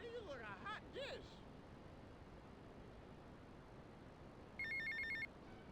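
A payphone rings in the video game GTA Vice City, a short burst of repeated electronic trills near the end, heard after brief voices and over a steady background hiss.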